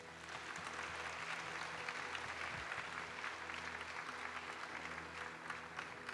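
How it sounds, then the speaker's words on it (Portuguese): Congregation applauding steadily at a Pentecost Catholic worship service, a dense, continuous wash of clapping that fills the whole span at an even level. "Aplauda o Espírito Santo."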